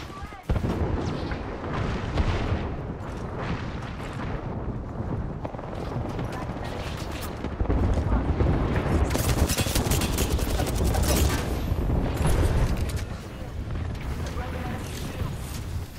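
Sustained gunfire and explosive bursts rattle almost nonstop through a ranked match in the video game Apex Legends, loud and close, growing heavier midway, with a voice talking over it.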